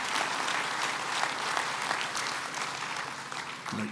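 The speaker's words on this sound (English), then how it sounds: "Give Davie a hand, will you?" Enthusiastic audience applause at a shipyard groundbreaking ceremony, dense sustained clapping from a sizable crowd that holds steady, then tapers slightly at the end.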